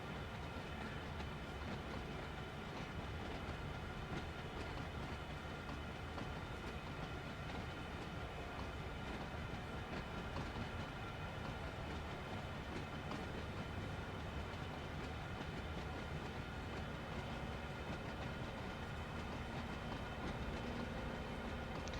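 A GP38-2 diesel hauling a mixed manifest freight train in Train Sim World 2 rolls steadily along the rails, a continuous dense rumble with faint clickety-clack wheel noise throughout.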